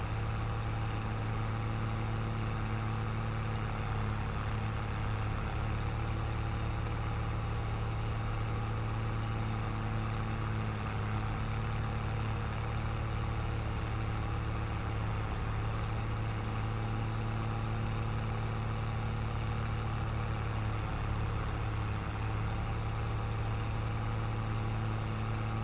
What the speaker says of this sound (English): take me a long time to plow this field with this tractor